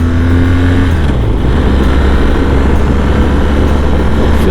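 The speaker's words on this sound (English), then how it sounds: "Feels like a sport bike throttle." A BMW GS 1200 adventure motorcycle revs hard, a loud, steady engine roar with no breaks, held at high revs and sitting up close.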